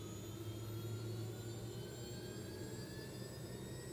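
A Robinson R66 turbine helicopter engine spools up during start as the main rotor begins turning: a steady, loud turbine whine with slowly rising tones over a low rumble, continuous throughout, with no voices.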